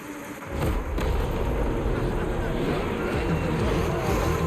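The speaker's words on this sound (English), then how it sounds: "Car that sounds like a malfunctioning or overvolting toaster" Chaparral 2X race car in The Crew Motorfest, its engine a steady, loud, buzzing drone that some liken to a malfunctioning or overvolting toaster. After a brief quieter start it holds a constant roar.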